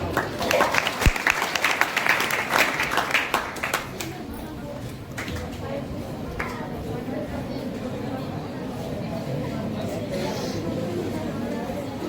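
An audience at a college Independence Day celebration bursts into applause to welcome a student speaker, with dense clapping for about four seconds that fades into murmuring chatter.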